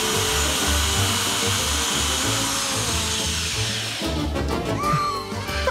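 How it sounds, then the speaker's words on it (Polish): Power drill whirring with a wall plug fitted in place of a bit, a loud continuous motor drone that shifts in pitch near the end, with clattering handling noise and no speech. "Pan do wiertarki mocuje dybel."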